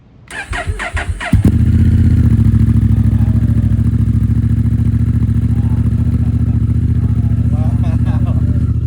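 A 2025 Honda Africa Twin fitted with an Akrapovic full race exhaust, Stage 1 tune and K&N air filters cranks and fires, then settles into a loud, deep, steady idle close by, with brief voices during the start.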